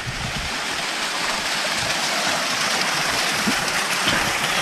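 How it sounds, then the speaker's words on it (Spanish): A small waterfall pours steadily at hot spring pools in a ravine, giving a dense, even rush of splashing water that stays constant and close with no talking. "pero acá es la cascadita más grande"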